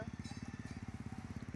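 A car engine on a test drive throbs with a fast, regular low pulse, close and steady for a moment.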